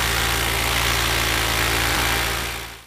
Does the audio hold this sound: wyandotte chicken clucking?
no